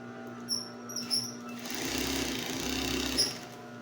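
A high-speed industrial sewing machine with a drive fault runs up and stitches, giving a low motor hum and a rising buzzing whir in the middle, with a few short clicks and squeaks, close and fairly quiet.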